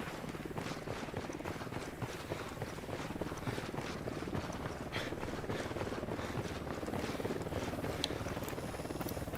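A helicopter in Ghost Recon Wildlands churns with a continuous, rhythmic rotor wash, steady and fairly loud, mixed with scattered game noises and no talk.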